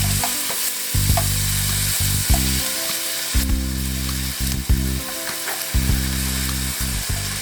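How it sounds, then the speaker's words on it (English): About eight ounces of peeled, previously frozen shrimp frying in a single pan for chow mein, a loud steady sizzle with periodic stirring scrapes and clinks, close up and without voices. "And fry for about 2 minutes till they turn pink."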